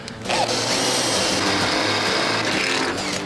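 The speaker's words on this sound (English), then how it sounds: "The key to drilling metal is all about keeping the speed down and the pressure high and controlling the bit." A power drill bores into the metal body of an Isuzu Trooper to fit a snorkel, a steady close grinding whine running throughout with no talk.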